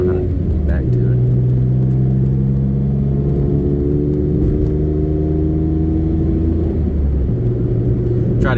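A 1995 Honda Today kei car's small engine drones steadily while driving through a quiet neighborhood, with rising gear tones and a shift partway through, loud and close from the cabin.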